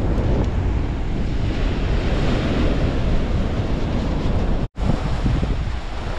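Rough sea waves surging onto the shore during a storm warning, a continuous loud roar of surf and water with heavy wind buffeting the microphone and one brief dropout partway through.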